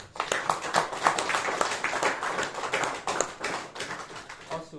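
A crowd applauds to welcome the queen on a palace courtesy visit, with dense, lively overlapping handclaps holding steady for several seconds and no voices over them.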